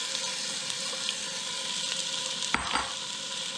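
Onions fry in a pan at the start of a zucchini pasta sauce, giving an even, close sizzle with a brief scrape or clatter near the end.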